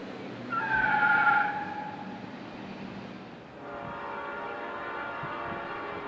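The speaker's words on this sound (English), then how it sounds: "the 42-car AF-12, now running as train Z502 on the CSX, rips through Miller at track speed" A CSX freight train, the 42-car Z502, rips through Miller, Indiana at track speed, a steady loud rolling roar with a sustained tonal whine early on and a dense rumble continuing throughout.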